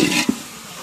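Tomatoes and salt frying in a pan for fish biryani in a village kitchen, a short close sizzle and stir with a soft scrape, fading quickly.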